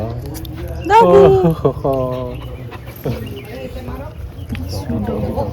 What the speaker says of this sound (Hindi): तो डॉगी आ गया।